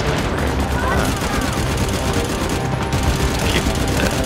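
Dense, continuous gunfire and explosions in the video game Firefall, loud and sustained, with bursts of rapid shots layered over rumbling blasts and no pause.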